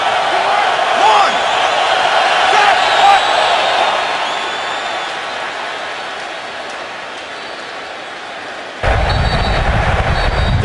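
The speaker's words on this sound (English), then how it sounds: "the Jets crowd is stirred" Football stadium crowd at a Jets game stirring as a steady, dense roar of many voices, swelling slightly then easing, with a broadband burst of noise near the end.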